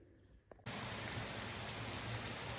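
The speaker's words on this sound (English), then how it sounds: "This is a lot of rain." Heavy rain pounds a château roof in a loud, steady roar that bursts in suddenly after a quiet moment and keeps going without a break.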